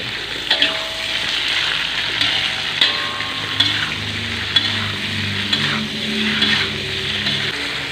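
A pan of tofu and cucumber simmering in coconut milk is stirred, with a steady bubbling sizzle and occasional soft clinks of the utensil against the pan, near and continuous, no voices.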